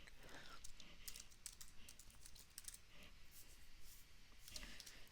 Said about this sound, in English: we type in the IP address that's right here on the screen